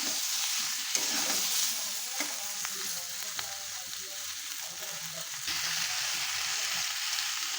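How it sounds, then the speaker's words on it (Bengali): Bele fish from the Ganges fries with chopped ginger and peas while being stirred, so scraping and clattering stir strokes come and go over a continuous soft sizzle. "দিয়ে খুব ভালো করে নেড়ে চেড়ে ভেজে নেব।"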